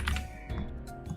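Fingers tap rapidly on a computer keyboard in a quick, close burst of clicky keystrokes, heard over music playing in the background.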